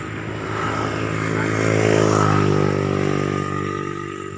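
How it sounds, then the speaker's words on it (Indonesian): Vespa scooter engine fitted with an ordinary motorcycle exhaust, running steadily with a low droning hum that swells slightly in the middle and holds close and loud throughout. "Ini knalpot motor biasa dah ini."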